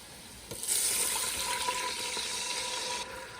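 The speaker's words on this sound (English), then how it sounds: "we're going to deglaze the pan with a little wine" Wine hits a hot pan while making linguine and clams, a sudden hissing sizzle with a liquid pouring rush that holds steady for a few seconds, then drops away.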